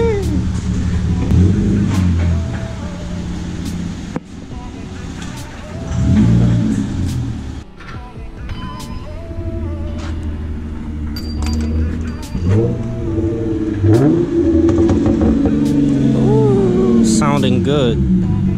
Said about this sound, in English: this car has a muffler delete, so it sounds kind of insane